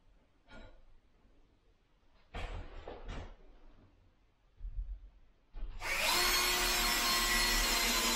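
A power drill drives screws into plasterboard over stud work: a few quiet knocks and handling sounds, then a loud, close, sustained whirring burst at the end.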